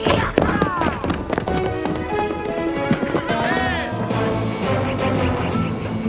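Horse hooves clip-clopping as a rider gallops away, a quick run of hoof beats with a whinny and shouting voices over it, loud and close at first before settling into a steadier rumble.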